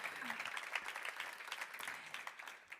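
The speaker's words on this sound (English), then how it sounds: "You can both return to your seats, accompanied by a warm round of applause." Warm applause from the audience at an annual general meeting, a steady patter of many hands clapping that sounds fairly soft and distant and eases off slightly toward the end.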